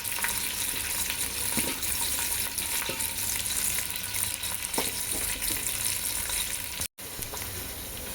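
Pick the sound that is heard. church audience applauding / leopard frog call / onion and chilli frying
onion and chilli frying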